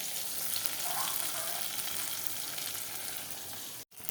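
Whole pabda fish fry in oil with a continuous soft sizzle and faint crackles, quiet and close, ending in a brief sudden dropout; no one speaks.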